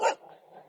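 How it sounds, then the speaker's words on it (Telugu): A single dog barks close by, one sharp bark followed by a faint trailing whine, with no talk. "కుక్కలకి ఇప్పుడు ఆడ కుక్కలు మొత్తుకుంటున్నాయి"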